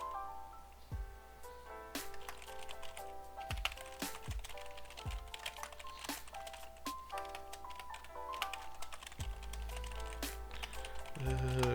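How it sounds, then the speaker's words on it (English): Steady typing on a computer keyboard during a game development talk, with quick irregular key clicks throughout and a few louder spacebar or enter thumps, close and clear. "Speaking and typing at the same time is not a skill I possess."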